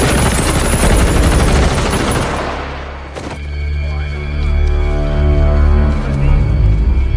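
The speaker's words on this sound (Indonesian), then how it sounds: "Sang sersan pun harus tewas dihujani tembakan oleh para tentara Nazi tersebut." Heavy gunfire from Nazi soldiers in a World War II film scene, dense rapid bursts for about three seconds, then a deep booming rumble with a sustained musical drone beneath.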